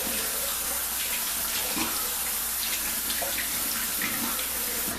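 Cold tap water runs steadily into a basin during a shave, a constant close rushing splash with no voices.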